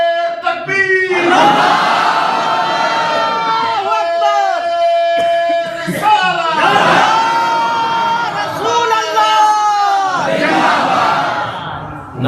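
A large crowd in a mosque shouts a unison response to a Takbir slogan, loud and close, in repeated bellowing waves with a brief gap between surges.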